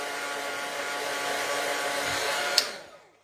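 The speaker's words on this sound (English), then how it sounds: "I have to dry this again because I'm going back, I'm going to use the crayons again" A handheld heat tool blowing hot air to dry a painted art journal page, a steady loud whooshing drone lasting nearly three seconds before a click as it switches off and winds down.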